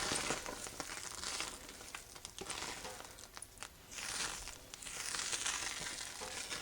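Food being stirred in a crock pot: soft, wet scraping and sloshing in uneven bursts, fairly faint and close, with no voices.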